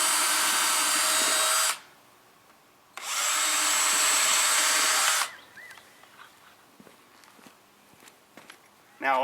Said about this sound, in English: And just drill your holes all the way around.